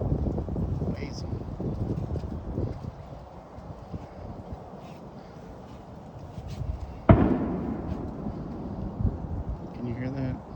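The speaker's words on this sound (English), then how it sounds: "My neighbors love firecrackers." One sharp firecracker bang pops in the distance on a snowy morning, standing out from wind and background noise while people talk faintly.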